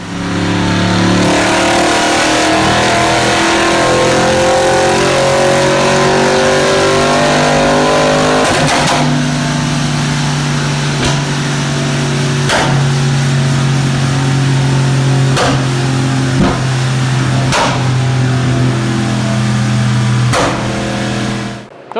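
A tuned, remapped Audi RS6 engine revs hard on a dynamometer, a loud sustained roar with rising and falling pitch, punctuated by sharp pops and bangs from the exhaust throughout.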